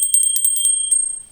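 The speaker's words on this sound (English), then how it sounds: "altar bell in silver with a little pentacle on it" A small silver altar bell bearing a pentacle rings out in a quick run of bright, sustained strikes, each shimmering tone overlapping the next and slowly fading, with no voices.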